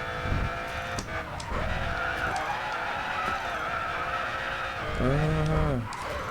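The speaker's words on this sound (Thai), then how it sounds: "ฟังเสียงเครื่องก่อนเลย" Mercedes CLK GTR race car in the Racing Master mobile game, a steady engine drone with tire skidding throughout and a rising-then-falling engine note near the end.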